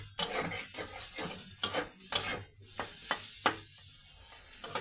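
Crumbled egg fries in a pan for egg tarka, a steady sizzle broken by repeated scraping strokes of a spatula at an uneven rhythm, close and fairly loud.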